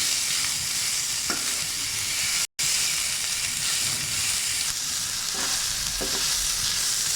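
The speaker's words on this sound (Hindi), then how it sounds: "अब इसको थोड़ा सा हम सोटे करेंगे।" Onions and shredded cabbage sauté in a pan for a chicken samosa filling, giving a steady close sizzle with soft stirring scrapes; a brief dropout interrupts it midway, and no one speaks.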